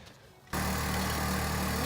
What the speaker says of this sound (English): So I'm just gonna do it with an air compressor.